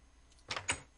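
A wooden door opening in the Minecraft video game: two quick clacks in close succession, fairly faint and alone, without speech.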